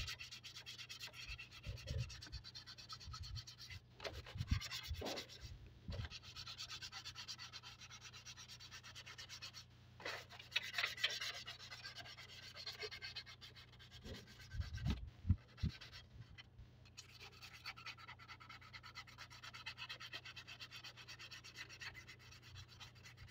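Sandpaper rubbing around a hole in a diesel fuel tank, a faint continuous scratchy abrasion with short bursts of louder strokes and brief pauses.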